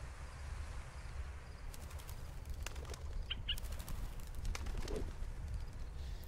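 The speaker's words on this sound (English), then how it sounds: "Oh, these birds are, they're flying." Birds in the video game A Bird Story, likely pigeons, flap their wings and chirp, with short wingbeat bursts and soft calls rising over a steady low background hum.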